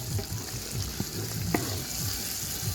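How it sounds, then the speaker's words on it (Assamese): Meat being stirred and fried in a pan, with a soft steady sizzle and a few scattered clinks and scrapes as it is moved around, fairly quiet and close. "এনেকৈ লৰাই থাকিব লাগিব তাৰপিছত মাংসখিনি দি দিয়া হৈছে"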